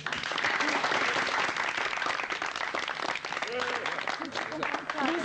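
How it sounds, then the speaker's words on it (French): A studio audience applauds on a French TV game show from 1982, sustained dense clapping filling the whole stretch at steady loudness, with a few voices faintly audible beneath it. "Et les applaudissements du public du studio."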